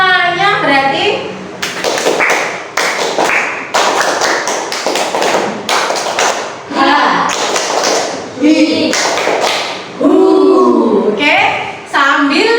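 A classroom of students performs a rhythmic clapping routine, bursts of sharp hand claps in patterned groups repeating over several seconds, loud and close, with a teacher's voice speaking between the claps.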